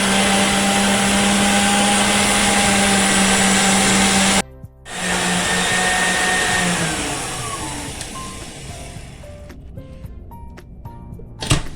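An electric mixer whirs loudly at high speed while beating egg whites and sugar for a white cake, a steady motor drone that briefly cuts, restarts and then winds down near the end.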